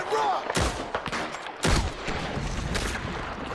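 Gunfire in Red Dead Redemption 2: several sharp, loud shots at irregular intervals, with a strong blast near the middle, ringing over a busy background with some talk.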